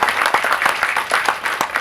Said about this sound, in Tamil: உங்களோட கரகோஷங்களோடு